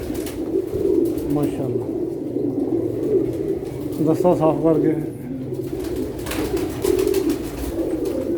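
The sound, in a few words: pigeons cooing on a rooftop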